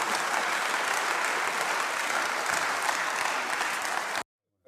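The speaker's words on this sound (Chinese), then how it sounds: "所以全场鼓掌" A parliament audience breaks into sustained, dense applause after a speech by Orbán, the clapping steady and loud throughout before stopping abruptly.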